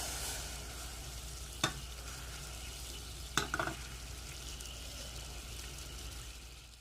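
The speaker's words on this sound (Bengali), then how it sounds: "রাইসটা যেন এক জায়গায় পুড়ে না যায়, নেড়ে নেড়ে দিতে হবে," A pudding's sugar and water cooking in a pan are stirred, giving a steady low sizzle with a few sharp scrapes and clinks from the spoon against the pan, no voice.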